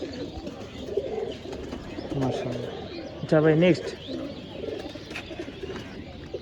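Pigeons in a loft coo in soft, repeated rolling calls, with one louder, nearby coo standing out midway, while people talk over them.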